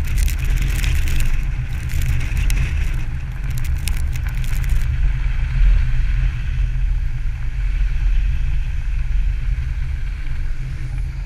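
A BMW 430d xDrive Gran Coupé on an ice-driving course gives a deep, continuous engine roar under throttle while sliding, loud and close, with a brief hissy rush early on before the drone settles.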